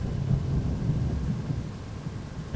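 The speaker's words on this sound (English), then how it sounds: "There's not a lot to see because now it's pouring." Heavy rain pours at Port Harcourt airport in Nigeria with a deep rumble of thunder, a dense low roar filling the whole stretch with no voices.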